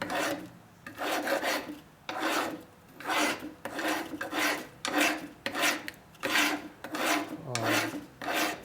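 Rough metal file rasping on the valve seat area of a 2004 Harley-Davidson FLHT Twin Cam touring engine during a top-end rebuild: about nine steady back-and-forth strokes, close and fairly loud, with no talking.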